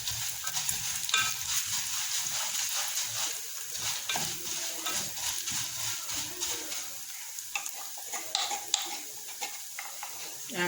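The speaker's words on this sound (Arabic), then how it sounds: "انزل على الشعرية دي بالثوم اللي انا دقاه بشوية كمون" Crushed garlic and cumin frying with vermicelli in a hot pan, a steady broad sizzle with occasional stirring scrapes and utensil clinks running throughout.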